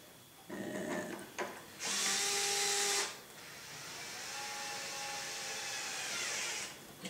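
A power driver whirs in short bursts, then runs steadily, setting screws into the frame of a Trex 700E RC helicopter during a speed conversion, close and fairly loud.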